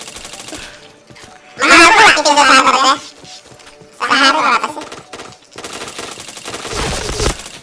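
Bursts of rapid automatic gunfire come from a PC shooter game, two loud clusters of shots with a quieter stretch of firing toward the end, against faint background sound.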